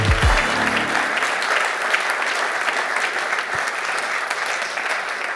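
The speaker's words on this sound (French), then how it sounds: "je vous demande d'accueillir avec beaucoup d'applaudissements, très chaleureusement" An audience at a conference talk claps loudly and steadily, a dense, sustained round of applause.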